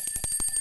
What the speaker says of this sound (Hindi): ये देखो भाई घंटी बजा रही है बहुत जोर जोर की